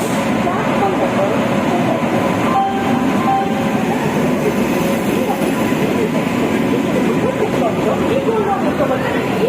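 A WAP 7 electric locomotive hauling the Secunderabad to Guntur Golconda Express arrives at a station platform, a loud, continuous rolling rumble of wheels and coaches, steady throughout, with voices in the background.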